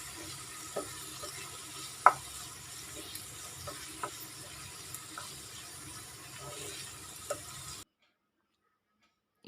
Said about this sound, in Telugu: మిక్స్ చేసుకుందామండి.